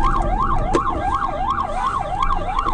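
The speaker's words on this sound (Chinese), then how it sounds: "车上警报器大响" A car alarm blares on a street after the car was smashed with an iron bar: a loud, continuous wail rises and falls in quick, regular cycles, with no talk.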